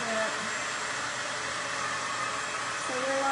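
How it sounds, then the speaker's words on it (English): A hair dryer blows on its low setting with a steady, continuous airy whoosh, held close and unbroken for the whole stretch, with no talking over it. "I'm gonna use my blow dryer. I'm gonna put it on the low setting"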